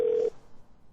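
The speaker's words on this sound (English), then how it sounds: "At the tone, please record your message." A short, steady electronic beep from an answering machine signals the start of message recording; a single clean tone lasts about a third of a second, then fades into quiet room noise.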